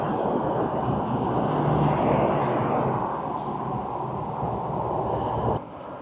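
A diesel V/Line passenger train in Melbourne rumbles past with a loud, steady roar that eases slightly before dropping off abruptly near the end.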